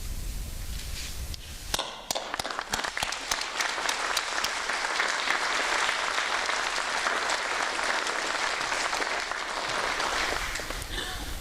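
Audience at a fire department recruit academy graduation bursts into loud, sustained applause after a quiet moment, dense clapping filling the hall for about ten seconds.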